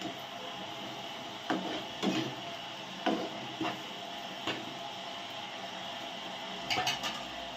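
Oil brinjal curry, North Karnataka style, being stirred in a pot: a handful of scattered scraping and clinking knocks, moderately close, over a steady background hiss.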